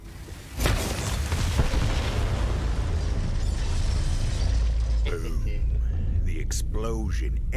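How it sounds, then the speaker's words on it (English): Bombs detonating in the video game Borderlands 3, set in a forest, give a sudden loud boom followed by a sustained roaring rumble that carries on with game sounds and some talk over it. "explosion echoed through the forest"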